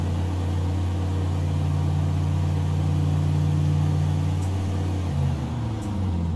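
Icon A5 amphibious light aircraft engine in Microsoft Flight Simulator, a loud, steady droning hum that shifts pitch near the end as the engine settles into idle.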